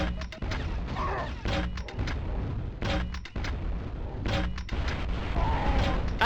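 Repeated grenade launcher blasts in the Quake II video game on N64, heavy booming thumps firing in an irregular rhythm, close and loud, with clanking weapon mechanisms between shots.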